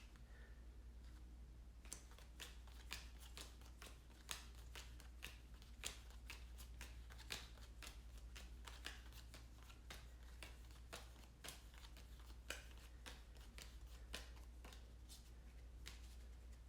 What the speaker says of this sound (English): But these I will shuffle right quick.